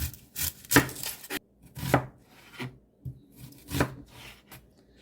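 A knife chops onion on a cutting board for ground beef tacos, with a series of crisp, uneven cuts close up and no talking.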